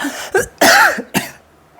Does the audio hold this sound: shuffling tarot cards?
no